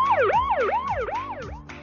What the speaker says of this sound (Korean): 내 친구 소방차 삐뽀야. 삐용삐용 삐뽀뽀.